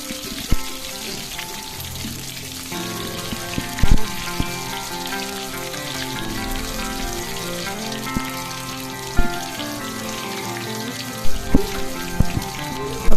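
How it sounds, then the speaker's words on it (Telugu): Ginger garlic paste crackles and spatters in hot oil, a busy patter of small pops running continuously under steady background music with a few sharper clinks. "ఇప్పుడు ఇదే ఆయిల్లో 6 టేబుల్ స్పూన్ల వరకు అల్లం వెల్లుల్లి పేస్ట్ వేసుకోవాలి"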